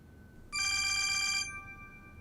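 A telephone rings in a burst of electronic trills lasting about a second, fairly loud and clear over a quiet room, then fades away.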